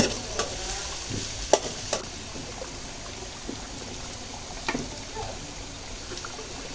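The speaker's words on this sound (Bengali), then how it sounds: "পেঁয়াজগুলো হালকা কষে নেব" Onions sautéing in a pan for a tomato-based kakila fish curry: a soft, steady frying hiss with occasional stirring clicks and scrapes, fairly close and moderate, with no voices.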